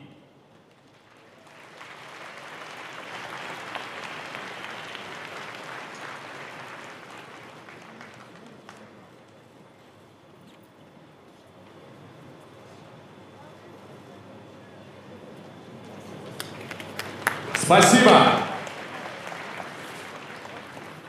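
A crowd at a Muay Thai award ceremony applauds the winning fighter of a Russia-versus-Morocco bout. The sustained applause swells early and then fades. Near the end there is a loud, brief burst as someone speaks a short word.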